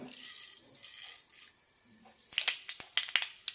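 Sharp crackling pops burst out in quick succession after a quieter, hissing stretch, like mustard seeds spluttering in hot oil, close and fairly loud.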